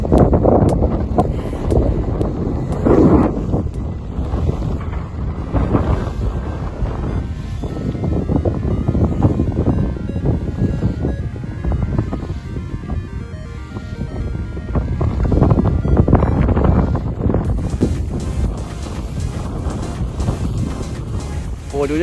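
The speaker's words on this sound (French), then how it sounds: "l'éolienne fait du bruit normal, il y a beaucoup de vent" A loud, continuous roar of rushing wind dominates beside a running wind turbine in strong wind, with a deep rumbling drone beneath it and occasional voices under the noise.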